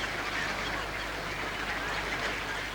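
Ducks and geese call over one another at Slimbridge wildfowl centre, a dense, continuous chorus of honks and quacks from a large flock at moderate distance, with no clear gaps.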